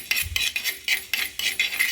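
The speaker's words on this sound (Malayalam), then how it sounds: "അപ്പോൾ നമ്മൾ ഉലുവയൊക്കെ ഒന്ന് വറുത്തെടുക്കാം" Fenugreek seeds being roasted in a hot clay pan give repeated light scraping and clinking strokes of a utensil against the pan, steady and close, with no talk.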